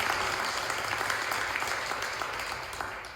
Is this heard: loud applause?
yes